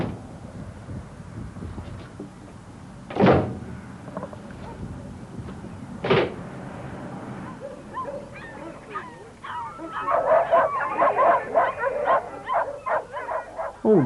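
Dogs kept in individual outdoor kennels at a dog farm, with two sharp barks early on and then a busy stretch of overlapping yips, whimpers and barks toward the end, moderately close.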